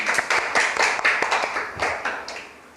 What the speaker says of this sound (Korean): 박수 쳐야죠.